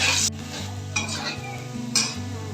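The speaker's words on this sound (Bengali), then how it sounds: "আলুগুলো ভাজা হয়ে গেছে" Potatoes fry in oil in a wok, heard up close with a soft sizzle under scraping stir strokes. Three brief bright bursts of spatula movement stand out over the steady frying.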